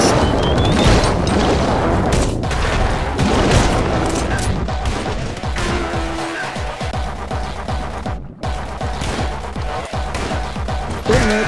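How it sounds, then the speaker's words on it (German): Rapid bursts of gunfire and booming impacts in the video game Anger Foot, loud and dense throughout with crashes layered in, a brief near-silent gap partway, and faint talk in the mix. "Ich muss drauf schießen."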